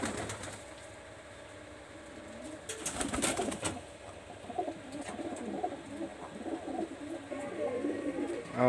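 Pakistani high flyer teddy pigeons kept in Khulna coo softly in a steady murmur, with a brief burst of louder flutter or wing flapping partway through over faint background noise.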